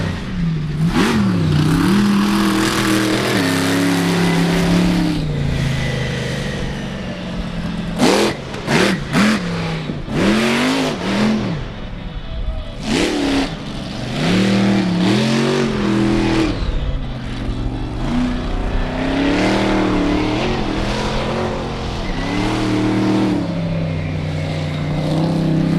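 Four-wheel-drive truck at a 4-Wheel Jamboree Nationals freestyle wheelie run in Indianapolis, its engine revving hard in repeated sharp bursts and sweeping rises and drops, loud and close throughout, with no talking.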